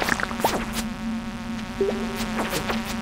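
Flies buzz in the video game Stardew Valley, with several thin insect whines rising and falling over a steady low drone. The buzzing comes in overlapping bursts at moderate loudness, and no one speaks.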